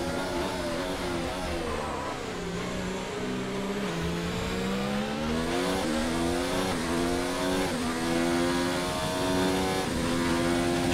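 An F1 car at Suzuka in the F1 2019 racing game accelerates, its engine note climbing steadily through the gears in repeated rising sweeps, loud and continuous and with nobody talking.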